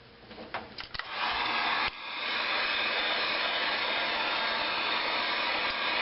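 A handheld heat gun heats a Kydex strap for bending. A few clicks come first, then the gun starts with a loud, steady blowing roar that continues close by to the end.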